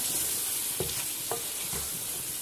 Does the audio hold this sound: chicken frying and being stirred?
yes